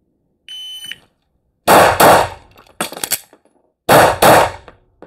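Pistol shots from a Shadow Systems DR920 during a practical drill: loud sharp reports fired in quick pairs and a short string, preceded by a brief electronic shot-timer beep.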